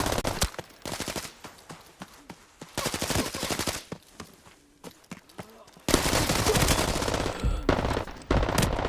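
Pistol gunfire in Arena Breakout: Infinite, loud rapid bursts of close shots repeating in clusters through a hectic firefight, with brief lulls between volleys.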